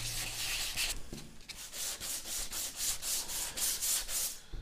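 A 240 grit block sands a plastic car bumper by hand in circular motion, producing close, soft rhythmic scratching strokes repeating at a steady pace with no talk.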